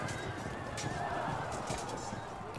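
Balkan light horse cavalry in the medieval strategy game Field of Glory II, a horse whinnying over a steady, busy battlefield din of hooves and noise, sustained and moderately loud throughout.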